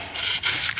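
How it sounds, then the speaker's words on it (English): Scooter starter motor rotor being sanded with 800 grit sandpaper, a close, continuous scratchy rubbing with quick back-and-forth strokes, heard alone. "sandpaper and just clean the rotor there."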